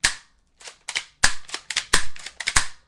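A Smith and Wesson shotgun made in Springfield, USA, gives a rapid string of sharp, crackling reports in quick uneven bursts, loud and close against near-silence between shots.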